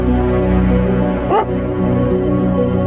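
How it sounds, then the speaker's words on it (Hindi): A dog gives a short yelp or bark in the middle, heard over a steady background of music and voices. "उसे अपने डॉगी के भौंकने की आवाज सुनाई देती है"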